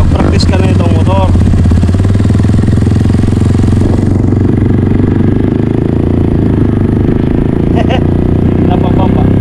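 A motorcycle engine runs loud and steady close by, a dense rattling drone throughout, with voices speaking over it.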